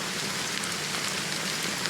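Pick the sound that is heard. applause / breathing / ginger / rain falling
rain falling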